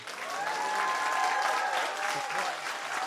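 A church congregation bursts into sustained, dense applause, many hands clapping together in a loud continuous roar, with voices faintly mixed in.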